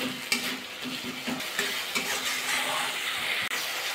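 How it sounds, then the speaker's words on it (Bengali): Spice masala for an egg and soybean bhuna curry fries and is stirred in a pan, with a continuous close sizzle and repeated scraping strokes over a steady tonal background. "এবার মশলাটা ভালো করে কষিয়ে নেব"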